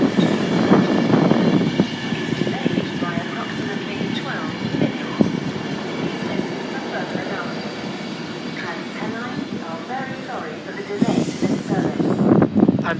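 Class 390 Pendolino train passing through Wigan North Western station, a steady loud rumble of wheels and carriages running throughout, with a brief swell near the end and some faint talk underneath.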